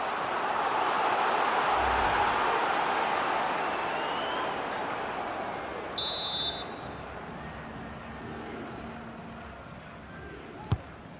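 Stadium crowd noise during an Argentina versus USA Copa America match in FC 24, a broad roaring swell that peaks early then slowly eases, with a brief whistle-like tone and a sharp knock near the end.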